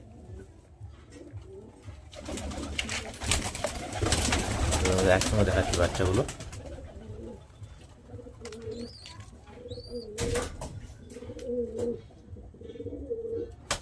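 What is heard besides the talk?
pigeons cooing in a loft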